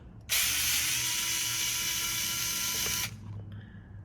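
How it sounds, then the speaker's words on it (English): A small screw is driven out of a rifle floor plate with a rapid, steady ratcheting whir lasting about three seconds, close and clear, followed by faint handling noises. "I'm gonna take the screws out."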